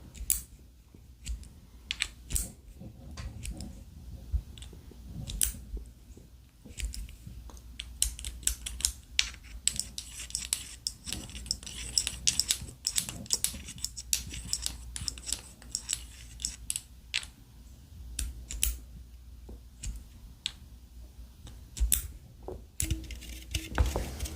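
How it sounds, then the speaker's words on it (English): Fingers tapping on a metal object in an ASMR recording, giving quick, crisp, irregular clicks and taps close to the mic, some in rapid clusters, over a quiet background. "ASMR classic, just tapping on a thing."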